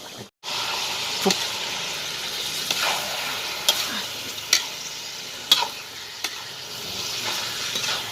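Sweet pork frying in a pan with a continuous loud sizzle, broken by repeated sharp clicks and scrapes of a utensil stirring at irregular intervals, with occasional faint voice underneath.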